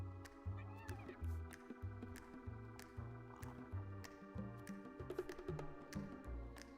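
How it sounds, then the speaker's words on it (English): Cats meow when petted in the video game Mewgenics. Soft cat calls sit low in the mix under game music with a rhythmic bass pulse and scattered clicks. "I need to have the cat noises loud"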